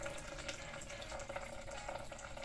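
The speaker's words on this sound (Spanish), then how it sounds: "Vamos a sacar el agua que tiene aquí." Water being poured out of a jar while plants are cleaned, a steady, soft trickling and splashing that runs unbroken throughout at low volume.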